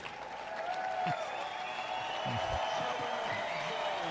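A crowd at a baseball game between the Everett Merchants and Kansas Stars applauds after a player falls between first and second base, a sustained wash of clapping heard at a distance with a commentator's voice over it.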